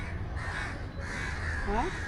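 Crows cawing overhead, a few harsh calls near the end rising over steady outdoor background noise, with a faint voice in the distance.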